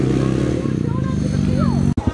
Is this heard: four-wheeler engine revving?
yes